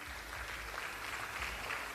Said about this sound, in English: A round of applause, please, for JA Africa.